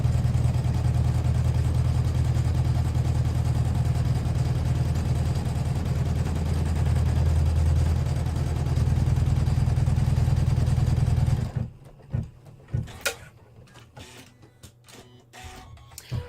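An embroidery machine stitches a final row on a T-shirt with a loud, steady mechanical drone, then stops abruptly and gives way to scattered handling clicks and knocks.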